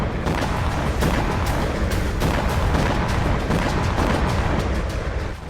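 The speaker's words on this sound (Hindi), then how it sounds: "जहां रूस विस्फोटक बनाता था, वहीं यूक्रेनी ड्रोन से हुआ जोरदार धमाका।" Dense, continuous rumbling booms and crackling blasts from a Russian ammunition depot hit by a Ukrainian drone strike at night, with no pauses and no voices.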